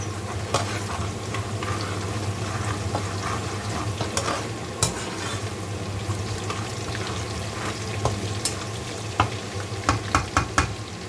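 Prawns fry in a pan with a steady sizzle, stirred throughout, with sharp clicks and scrapes of the utensil that grow busier toward the end; no voices.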